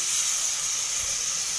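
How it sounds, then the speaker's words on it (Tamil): Ginger garlic paste frying in hot oil for a mutton leg curry, giving a steady, even hiss of sizzling that holds constant and fairly loud for the whole short stretch, with no voices. "இப்போ இஞ்சி பூண்டு பேஸ்ட் போட்டுக்கலாம்."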